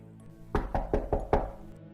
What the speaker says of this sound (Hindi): मेरे डोर पर नॉक होती है